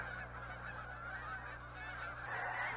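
Migrating geese honking steadily in a dense flock at Blackwater National Wildlife Refuge, Maryland, a continuous busy chorus of calls at moderate distance with no talking.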